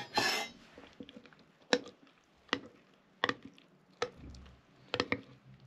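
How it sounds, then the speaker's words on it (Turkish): A spoon scrapes and taps against a bowl while another spoonful of flour is added to a homemade yeast starter, giving a few soft, spaced clinks and knocks, close but quiet, with no voices. "Bir kaşık daha koyuyorum."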